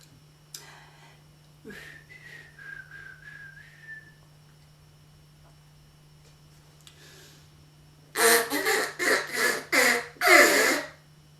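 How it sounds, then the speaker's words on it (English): A short whistled melody rises and wavers for a couple of seconds, followed later by a burst of loud, choppy sounds. "Whistle a happy tune."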